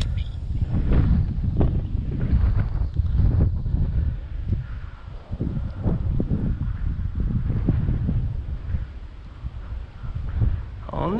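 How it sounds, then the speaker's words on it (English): Wind buffets the microphone beside a lake during fall bass fishing, a loud, continuous low rumble with gusty swells that never lets up. "Ooh, and that wind is gnarly. I know you guys hear every bit of that"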